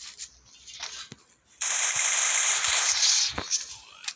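Rapid automatic gunfire from the Free Fire mobile battle-royale game, a dense, loud burst lasting under two seconds that follows quieter in-game sounds, with faint talk in the background.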